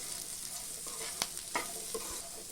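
Sweet corn fries in ghee with salt and chilli, giving a soft, steady sizzle with a few light spoon taps, quiet and close.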